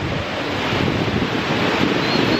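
Ocean surf rolls onto a beach in Chiapas in the evening, a steady close wash of waves mixed with wind buffeting the microphone, with no voices.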